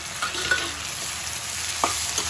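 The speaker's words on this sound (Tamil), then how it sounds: "நான் இப்போ தக்காளி போட்டு நல்லா வணக்கிக்குவோம்." Chopped tomatoes frying with onion and garlic in a pan, a steady close sizzle with a few soft scrapes of a spoon stirring, no voices.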